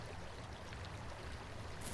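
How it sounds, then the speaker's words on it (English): The Kicking Horse River runs through an icy gorge in the Canadian Rockies in winter, giving a steady, low rushing of flowing water that holds an even level throughout, with no voices. "you can see the Kicking Horse River running through here"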